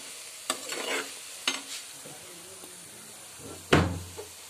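Grated coconut and carrot are stirred in a frying pan for a carrot thoran, with a few separate scraping strokes over a faint sizzle and one loud knock of the utensil near the end.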